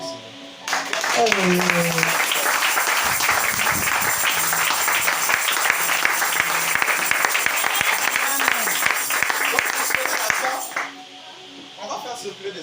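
A church congregation bursts into applause: a dense wall of clapping that keeps going for around ten seconds, with voices underneath at the start and a brief spoken word as the clapping stops.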